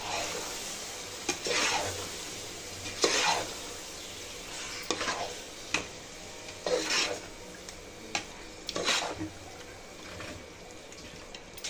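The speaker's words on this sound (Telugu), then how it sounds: "చికెన్ అంతా ఈ మసాలాలో బాగా కలుపుకోవాలండి" Marinated chicken being stirred into masala in a pan for dum biryani, heard as repeated scraping and rubbing strokes of a spoon against the metal pan at an irregular pace, close up, with faint sizzling underneath and no speech.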